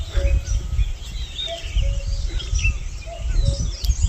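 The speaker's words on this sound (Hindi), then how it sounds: "आगे पीछे चिड़िया की आवाज़ सुन रहे हो?" Several birds chirp and call in the open, with short, thin tweets and whistles scattered over a low rustling background, moderately near and unbroken by talk.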